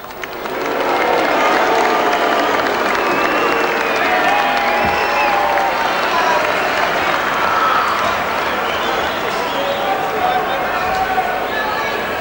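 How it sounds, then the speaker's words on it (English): A large crowd at Lang Park rugby league stadium gives a sustained ovation with applause and cheering during the 1993 Australia versus New Zealand trans-Tasman test, a steady, loud wash of noise lasting the whole stretch. "thanks very much for that ovation there"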